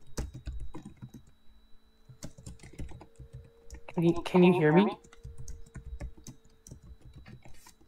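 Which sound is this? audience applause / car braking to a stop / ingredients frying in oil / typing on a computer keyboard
typing on a computer keyboard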